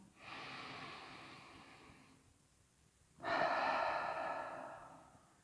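Deep yoga breathing during a guided class: a long, steady breath, then a brief pause, then a louder, fuller breath that stays strong to the end. Both breaths are close and heard alone, with no talking.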